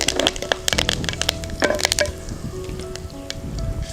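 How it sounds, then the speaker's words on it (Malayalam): Curry leaves drop into hot coconut oil in a pan and crackle, giving sharp, irregular pops and spits that ease into a softer, steady sizzle, close and without talk. "ഇനി നമുക്കിതിലേക്ക് അല്പം കറിവേപ്പില ഇട്ട് കൊടുക്കാം."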